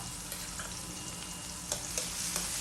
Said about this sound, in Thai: เจียวพริกกระเทียมให้หอมนะครับ